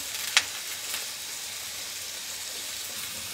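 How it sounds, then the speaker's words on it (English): Eggs frying easy in a pan give off a steady, soft sizzle, with a single sharp click near the start and a faint scrape a moment later, no voices. "I just like to fry my eggs up real easy."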